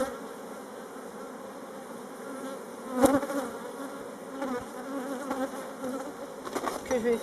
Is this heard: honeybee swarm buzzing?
yes